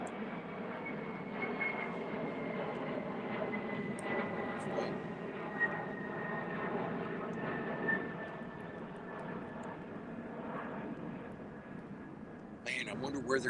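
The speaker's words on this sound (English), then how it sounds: "Another aeroplane going over." An aeroplane passes overhead outdoors beside a live fire, a steady broad engine roar that holds evenly for the whole stretch, with a faint rising whine running through it and no speech.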